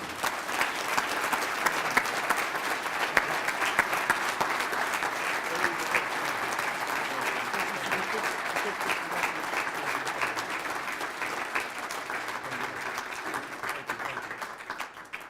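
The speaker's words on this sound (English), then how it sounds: "Could we have a round of applause for all of our honorees tonight" Long, steady applause from the audience at a chamber of commerce awards dinner, a loud continuous roar of many people clapping that holds evenly for the full stretch before easing slightly at the close.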